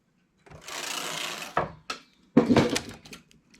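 Domestic knitting machine as stitches are transferred onto it while making a summer top with braided straps, a soft sliding whir followed by several short clacks and scrapes of the carriage and needles, close and moderately quiet.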